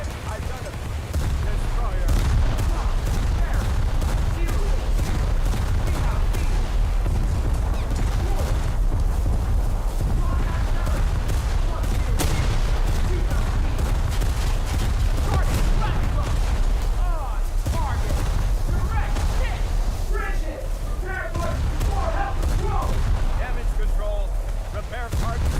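Heavy naval gunfire from the battleship HMS Barham in a video game, a loud, continuous barrage of booming shots and explosions, with a voice talking over it.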